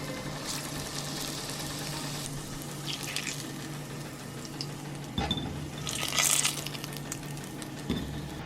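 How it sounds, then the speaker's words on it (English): Breaded chicken gizzards frying in melted lard in a frying pan, a quiet steady sizzle with occasional louder crackles and spatters. "We'll melt a little lard in a frying pan. We'll lightly bread these gizzards."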